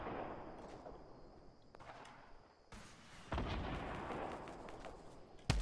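Gunfire in the battle royale video game Fortnite, distant booming shots under a steady background, then louder, closer blasts that arrive in sudden bursts near the end.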